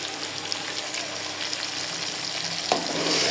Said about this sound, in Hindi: अब इसमें हम सबसे पहले तो टमाटर की प्यूरी डालेंगे।